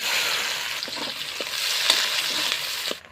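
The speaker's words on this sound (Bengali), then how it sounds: "পেঁয়াজটা একটু ভাজা ভাজা করে নিয়েছি" Chopped onion sizzles loudly in oil left from frying fish, with cumin added, as a spatula stirs and taps the pan in a steady, close-up crackle.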